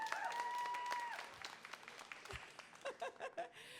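An audience at a spoken-word poetry event gives a brief, moderate round of clapping that fades into a few scattered claps and murmurs.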